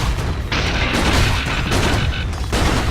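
A tower collapsing in a Dota 2 match, with a burst of rumbling, crashing booms and crackling impacts that roll on for about three seconds, loud and dense.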